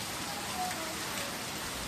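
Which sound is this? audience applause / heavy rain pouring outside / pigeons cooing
heavy rain pouring outside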